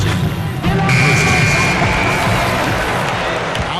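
A buzzer sounds in the basketball video game NBA 2K13, a steady electronic tone under arena crowd noise and cheering that holds after a sudden onset.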